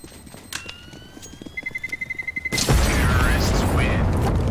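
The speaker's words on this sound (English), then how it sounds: "First I heard the footstep." Counter-Strike footsteps: a quick, even run of close steps in a steady rhythm, cut off by a sudden loud burst of in-game noise.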